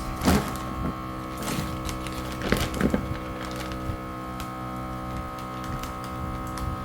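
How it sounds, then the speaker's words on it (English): A kitchen vacuum sealer hums with a steady motor drone while pulling air from a bag of homemade meatballs or Salisbury steak, close and continuous, with a few sharp handling clicks and rustles over the top. "do the same thing and vacuum seal that"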